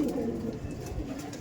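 Pigeons coo softly in a loft, a low murmuring of several birds close by with no talk over it.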